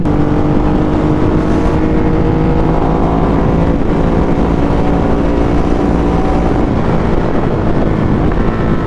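A Ducati Panigale V4R motorcycle drones steadily on a group ride, its continuous engine roar heavily buffeted by wind noise, with no speech.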